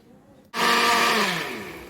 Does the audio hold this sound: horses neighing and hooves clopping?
no